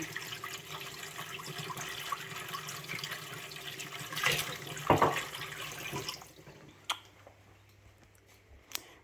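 Water runs from a tap while washing up, a steady splashing stream that swells midway and then cuts off, followed by a few scattered drips and clinks in a quieter room.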